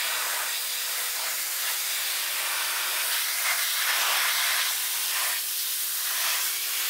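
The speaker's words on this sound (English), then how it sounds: "try to pressure wash them" A pressure washer sprays hard onto soaked, degreased burner grates from a food trailer oven: a loud, continuous hissing jet that surges and shifts slightly as the spray moves, with a faint motor hum underneath.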